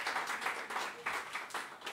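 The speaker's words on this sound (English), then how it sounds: "So a big applause for Emily." A crowd applauding, dense steady clapping that swells in quick waves, no voices over it.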